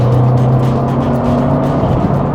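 A Lancia Delta Integrale HF 16V engine drones loudly from inside the car as it downshifts and picks up speed, a steady close rumble with no one speaking.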